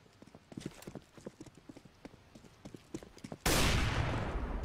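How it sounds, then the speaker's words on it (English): Footsteps in the game CS:GO make a run of quick, even, moderately loud taps, followed by a sudden burst of dense, loud noise. "Yes, I hear footstep."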